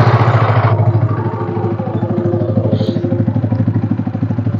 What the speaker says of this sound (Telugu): ఒకసారి అయితే మనం స్టార్ట్ చేసి చూసుకుందాం బండి అయితే